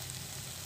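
Banana flower curry (mochar ghonto) sautéing over a low flame, a steady soft sizzle and frying hiss throughout the brief moment, with no talking.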